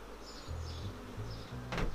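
Honey bees droning around an opened beehive during a June hive inspection, a low, wavering hum that swells and fades in short bursts, with a brief scraping knock near the end.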